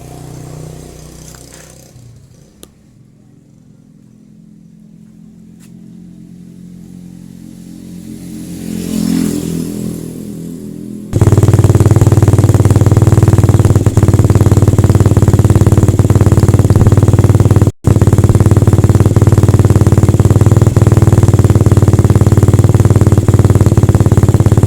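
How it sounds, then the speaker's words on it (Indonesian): A Suzuki motorcycle engine cranks and catches around the midpoint, then settles into a loud, steady close-up idle that runs on to the end with one brief dropout. "kita akan coba hidupkan dulu motornya"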